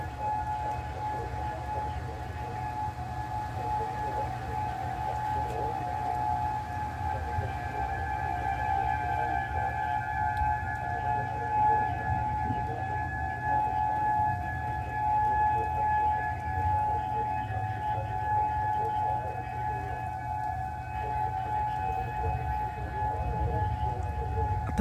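Tornado civil defense sirens wail steadily during a severe thunderstorm warning, a sustained, distant-sounding tone over a low rumbling background for the whole stretch, with no talk.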